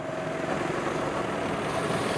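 Go-kart engines whine and buzz at a seaside kart track by a beach in Boryeong, a steady, moderately loud motor drone with no speech over it.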